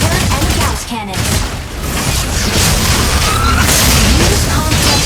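Gauss cannons fire in the Mecha BREAK video game, a loud, dense barrage of booming shots and blasts layered over continuous battle noise.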